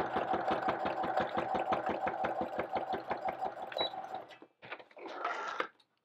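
A sewing machine stitches down the flap of a homemade gift card holder in a fast, even run of close mechanical clicks, then stops, followed by a couple of short handling noises.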